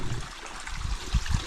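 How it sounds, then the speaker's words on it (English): The West Fork Pigeon River, a mountain creek, trickles and gurgles close by, with soft, uneven splashes and low bubbling over a steady wash of water. "This is actually the same creek that Mount Hardy Falls is on."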